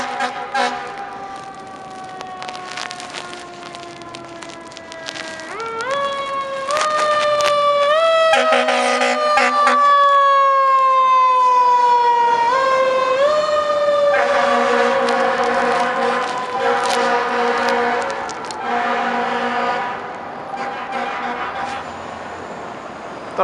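A Montreal fire truck, unit 627, wails its siren while responding through a snowstorm, the tone sweeping up and down and then settling into a steady rising-falling cycle, loud and fairly close with traffic rumble beneath.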